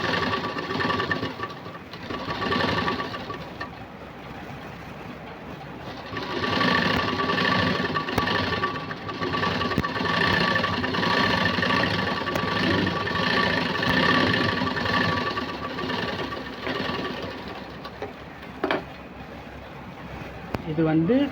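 Sewing machine running a top press stitch along a puff sleeve, a continuous mechanical hum that lasts most of the clip, close and fairly loud, steadier and stronger in the second half.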